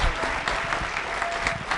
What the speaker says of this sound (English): Bruce Randolph, a round of applause, a big round of applause.